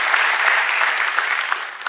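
Short spell of dense, even applause from a conference audience greeting a keynote speaker on clean-tech startup investment, continuing without pause and tapering slightly at the end.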